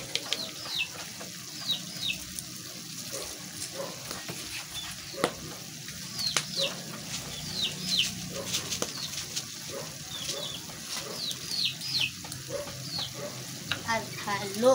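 Green beans and tofu sizzle and fry in a pan while a spoon stirs them, with steady crackling and occasional scraping clicks. Faint bird chirps sound in the background throughout.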